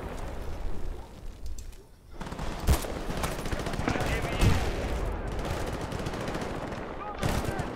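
Rapid gunfire in the Battlefield Bad Company 2 shooter game: sharp cracks and automatic bursts repeat loudly and close, with brief pauses between volleys and a voice heard at times.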